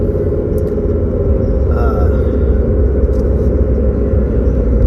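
A car travels along the road, its interior filled with a loud, constant low rumble of engine and tyre noise that runs unbroken throughout with no talking.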